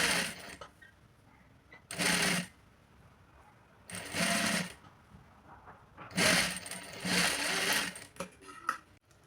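A sewing machine stitching piping onto a baby bib runs in four loud, close bursts of rapid mechanical whirring, separated by short quiet pauses.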